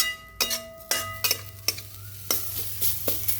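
Ginger garlic paste roasts in a pan for a curry leaf chutney while a spoon stirs it, with repeated sharp scrapes and knocks against the metal over a steady low sizzle and faint background tones.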